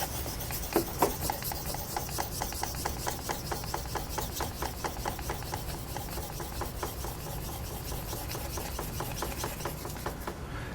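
A straight razor is honed in circular strokes on a Naniwa Super Stone, a steady close rhythmic rasping and rubbing that runs continuously without any talk.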